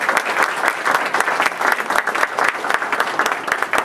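An audience applauds steadily in a hall, a dense even patter of many clapping hands, welcoming Dr. Peg Luksik to the stage at an evening forum.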